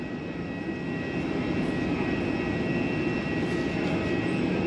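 Aircraft at Hamburg Airport, a steady loud engine roar with a broad rushing hum and high whine holding constant throughout.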